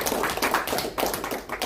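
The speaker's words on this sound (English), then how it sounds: "A round of applause, please." Brief burst of clapping from an annual meeting audience, a few close, uneven hand claps in quick succession.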